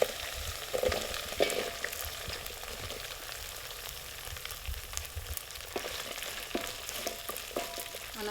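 Okra sizzles and fries in a pan with garlic and ginger, steady crackling close by with intermittent scraping knocks as it is stirred, no talking.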